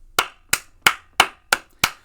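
Six sharp, evenly spaced hand claps at a steady slow rhythm, close and loud, each a crisp isolated smack with silence between.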